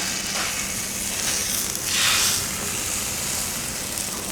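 A Reuben sandwich sizzles steadily on a Blackstone griddle just after being flipped, a loud continuous hiss of frying with a brief swell of spatter midway and no talking.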